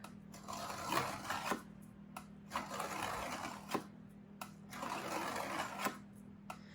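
A metal scraper bevels the edge of an etching plate in repeated rasping strokes, each lasting about a second. The strokes come in a steady rhythm, are close and fairly quiet, and sit over a constant low hum.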